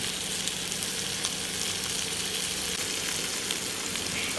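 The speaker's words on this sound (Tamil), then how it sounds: "கத்திரிக்காய் போட்டு கத்திரிக்காயும் தக்காளி பழமும் நல்லா வதங்கணும்" Eggplant and tomato sautéing in a pan for a mackerel fish curry make a steady, even hiss of frying, close and unbroken, with no talk.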